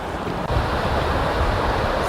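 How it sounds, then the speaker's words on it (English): Steady outdoor waterfall roaring continuously with a dense, even wash of falling water, fairly loud and close, with no voices. "look at this beautiful waterfall."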